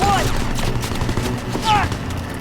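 Rapid bursts of rifle and machine-gun fire crackle in a Call of Duty WW2 campaign battle during a jeep chase, with short shouted voices mixed in over a rumbling engine bed.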